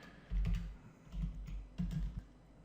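Computer keyboard typing while entering PHP code, in short clustered bursts of quick key taps separated by brief pauses, close and fairly quiet.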